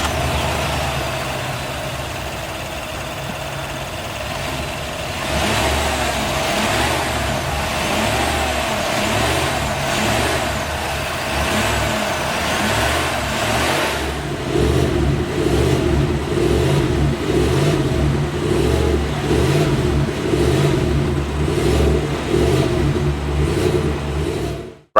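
A 2021 Chevrolet Suburban's 5.3-liter V8 runs at a steady idle, then blips through a series of repeated revs, loud and close, with no voices.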